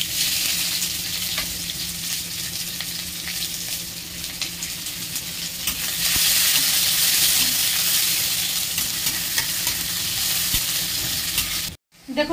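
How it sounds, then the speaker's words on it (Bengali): Chopped onions frying in oil after a tempering of cumin, preparing a fish curry with pointed gourd and potato: a steady, close sizzle that swells louder midway, with faint stirring, then a brief drop near the end. "পেঁয়াজটা আমি হালকা লাল লাল করে ভেজে নিয়েছি"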